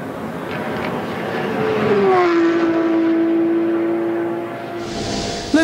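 A Porsche race car at the 24-hour Nürburgring race, driven by Timo Bernhard, roars past with a rising then falling engine note, loud and nearby, then fades as another sound starts at the end.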